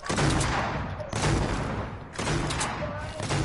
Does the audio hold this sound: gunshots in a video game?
yes